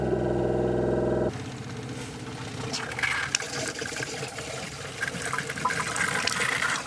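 Water gushes from a pipe into a camper van's tank, a dense continuous rush that starts abruptly after a short tonal hum and keeps pouring loudly to the end.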